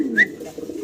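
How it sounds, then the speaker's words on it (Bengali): An exhibition fancy pigeon gives a short, soft coo at close range, followed by quiet low murmuring. "এক্সিবিশন কবুতর"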